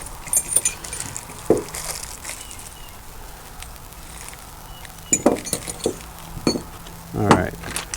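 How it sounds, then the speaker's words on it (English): Keys jangle and clink in short scattered bursts, close and fairly quiet, against a low background hum, while hardware parts for a Nissan Frontier seat delete kit are unpacked. "That's keys."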